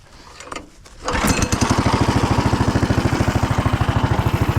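A 420cc go-kart engine, freshly given extra fuel at the carburetor, sputters briefly and then fires into a loud, steady rhythmic chugging idle.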